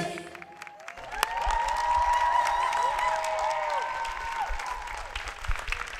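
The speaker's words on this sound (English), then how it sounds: "A very big round of applause for the Rishi Kumars and also for Tejas and Vaishnavi." A crowd at the Ganga Aarti ceremony during the International Yoga Festival at Parmarth Niketan bursts into sustained applause and some cheering over tonal music, swelling in after a quiet start and staying loud.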